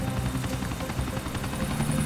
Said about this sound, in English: Worst helicopter landing of my life.